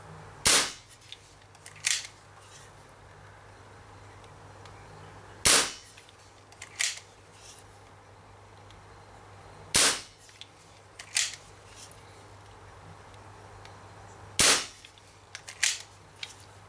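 An Umarex Marlin BB revolver fires sharp, loud cracks close by, spaced in pairs and triples several seconds apart, with the click of the action between shots over a faint steady hum.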